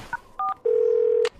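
A cartoon telephone dials with a few quick, bright touch-tone beeps, followed by one longer sustained tone, clean and close, with no talking over them.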